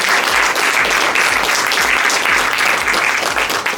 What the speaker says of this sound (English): Please, everyone, give a huge round of applause.